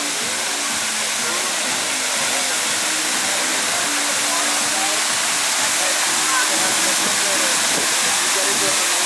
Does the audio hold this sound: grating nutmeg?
no